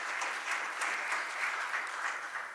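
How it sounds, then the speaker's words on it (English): An audience at the close of a session at the 2024 International IP Court Conference claps steadily, moderately quiet and continuous applause with no talk. "Please give them a big round of applause once again"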